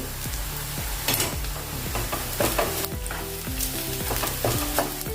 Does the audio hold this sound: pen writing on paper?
no